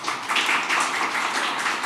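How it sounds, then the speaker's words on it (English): Audience applause at a medical presentation, a steady wash of many hands clapping at moderate loudness for the whole stretch, with no talking over it. "So big round of applause to you"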